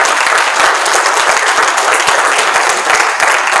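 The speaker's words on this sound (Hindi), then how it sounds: "एक बार और ताली बजाओ अपने लिए।" Audience at a network marketing seminar in a hall breaking into dense, loud applause that continues steadily throughout, many hands clapping at once.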